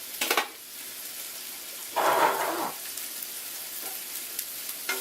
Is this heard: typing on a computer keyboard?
no